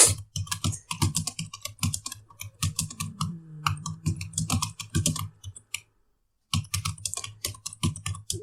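Rapid typing on a computer keyboard, close clattering keystrokes in quick bursts with a short pause near the end, plus a brief low hum partway through, and no speech.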